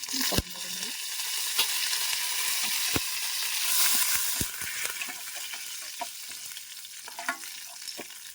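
Curry leaves dropped into hot oil for a bean and greens fry, a continuous crackling sizzle with sharp pops and spoon knocks against the pan, close by, without talk.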